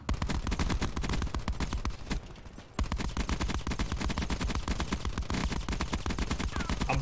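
Rapid, continuous video game gunfire with purple bullets rattles out in a steady automatic stream, pausing briefly before resuming just as densely.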